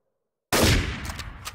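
Sudden burst of video game gunshots after half a second of silence, a loud opening blast followed by a rattling decay with a few fainter pops.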